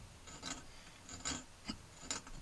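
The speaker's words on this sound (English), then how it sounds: "get my little scratcher inside, and just take a little bit off the part of the reed from the rivet to the middle" A small metal scratcher rasps against a Hohner Verdi accordion bass reed between rivet and middle, taking off metal for tuning; four short, soft scraping strokes spaced irregularly, close and quiet with no talking.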